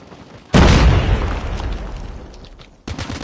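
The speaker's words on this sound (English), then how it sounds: "Grenade, run!" A grenade explodes in a first-person shooter video game, a sudden loud close boom that decays slowly over a few seconds before more game noise returns.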